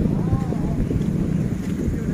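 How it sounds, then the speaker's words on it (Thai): Strong wind gusting at Chet Samian railway station in Thailand, a steady roar of buffeting microphone noise filling the whole clip with no speech. "โอ้ลมแรงเพื่อน"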